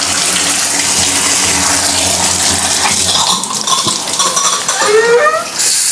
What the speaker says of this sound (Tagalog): May hot and cold water.